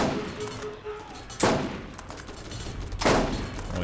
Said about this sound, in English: Only I'm shooting here.